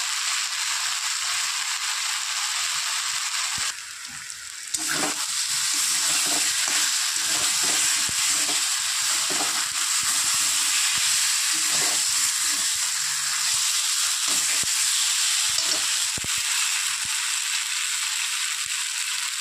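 Ginger, onion and garlic paste frying in a pan with cumin and chili powder for a catla fish curry, a steady close sizzling hiss throughout with faint scraping stirs and a brief dip partway.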